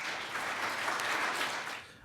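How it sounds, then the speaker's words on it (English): An audience at a PyCascades 2023 Python conference talk applauds for the speaker, a steady, dense wash of clapping heard from a distance, moderately faint and continuous throughout. "And let's give a warm round of applause for Brian."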